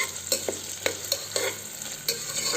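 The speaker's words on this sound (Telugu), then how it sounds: "తర్వాత ఆనియన్స్ వేసుకునేసి దీన్ని బాగా దోరగా వచ్చేంతవరకు ఫ్రై చేసుకోవాలండి." Onions frying in oil for restaurant-style ghee rice: a steady close sizzle broken by sharp, irregular scrapes and clinks of a spoon stirring in the pan.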